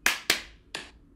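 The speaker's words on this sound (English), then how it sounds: "So one, two, three, and then we clap." Three sharp hand claps from people clapping together on a count, two close in quick succession and a third a moment later, crisp and close with fading tails.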